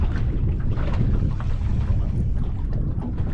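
Strong wind buffets the microphone while fishing for flathead from a boat. The low, rumbling gusts are loud and continuous, with no talking.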